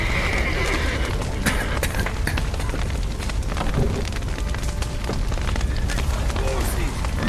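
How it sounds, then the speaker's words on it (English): Horses whinny and neigh in a burning stable in The Witcher 3, over a dense, loud roar of fire and commotion, with hooves and shouting voices mixed in throughout. "Horses! Get them out!"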